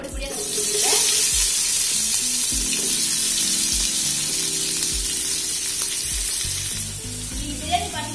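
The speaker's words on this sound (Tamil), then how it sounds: "நல்லா பொடி பொடியா வச்சிருக்கேன்" Finely chopped onions fry in hot oil for mutton dum biryani, giving a loud, steady, crackling sizzle close up that runs throughout, with soft music underneath and no voices.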